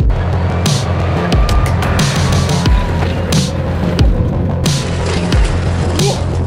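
A UAZ off-road vehicle accelerating hard uphill on a mountain slope, with a loud, continuous rough engine roar and repeated knocks and rattles from the rough terrain, heard up close.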